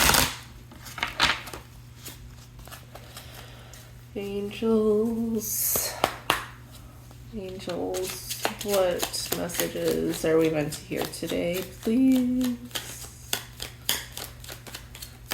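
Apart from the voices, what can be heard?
shuffling cards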